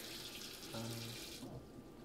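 Tap water runs into a sink or pot for making fish stock with small dried fish, a steady broadband rush for about a second and a half before it cuts off, leaving quiet room tone.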